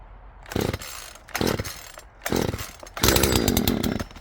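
A chainsaw engine on choke sputters in short revving bursts, then catches and runs steadily, loud and close, with no one talking.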